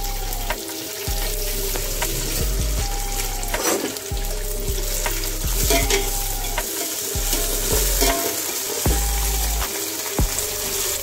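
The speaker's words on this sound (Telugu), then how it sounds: "ఉల్లిపాయని ఇలా వేయించుకున్న తర్వాత కొత్తిమీర పుదీనా మెంతాకు వేయించుకోవాలి" Onion frying with coriander, mint and fenugreek leaves for an Arabian-style chicken kabsa makes a loud, steady sizzle, with repeated stirring strokes and scrapes across the pan over a low hum.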